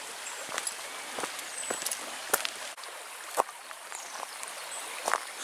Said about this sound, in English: It's lovely, that sound of bubbling water just burbling over the stones and rocks, isn't it?